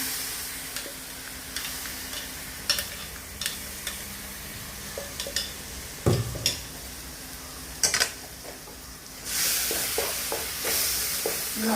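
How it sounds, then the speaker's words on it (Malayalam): Ground tomato paste hitting hot, sizzling masala of ginger and garlic in a pan, a steady frying hiss broken by scattered stirring scrapes and clinks, with the sizzle swelling louder near the end. "ഇനി നമ്മൾ അരച്ച് വെച്ച തക്കാളിയുടെ ഒഴിച്ചെടുക്കണം"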